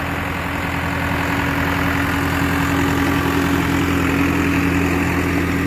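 A 2009 New Holland T5060 tractor engine idling close by: a loud, steady, unbroken diesel rumble with an even low hum and no speech.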